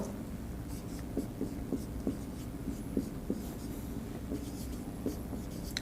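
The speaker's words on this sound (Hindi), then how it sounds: "मैं यहां पर वापिस से वो लाइन लिखता हूं" Pen or marker strokes on a board come as a series of short, soft scratches and taps at an irregular rhythm, close and fairly faint over a low background hum, with no speech.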